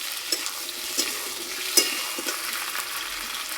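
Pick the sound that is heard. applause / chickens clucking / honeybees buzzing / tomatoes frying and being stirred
tomatoes frying and being stirred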